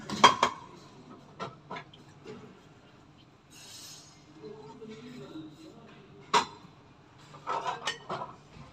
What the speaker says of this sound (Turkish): Bulaşık yıkamaya devam.